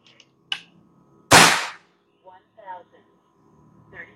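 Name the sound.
air rifle shot, Black Ant or RTXX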